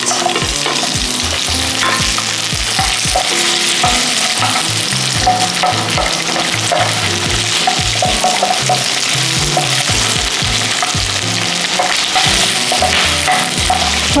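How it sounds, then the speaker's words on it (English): Onion fries in two tablespoons of oil in a pot for a sweet and sour sauce, a loud continuous sizzle close by with repeated rhythmic stirring scrapes and clinks, no voices. "We'll fry for about a minute or so until it's a bit translucent"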